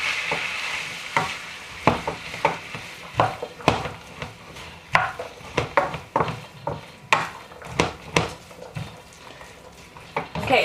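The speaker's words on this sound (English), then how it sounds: "we're supposed to cook, stirring until the beef is no longer pink and the onions are slightly tender" Beef and onions fry in a pan while being stirred, with a soft sizzle beneath regular scraping and clinking strokes of a utensil, close and rhythmic.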